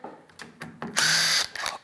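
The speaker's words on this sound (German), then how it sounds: "der Jonas schraubt ja immer mit dem Schlagschrauber" A cordless impact driver drives a screw into wood in a few short whirring bursts, then one sustained, louder burst close by.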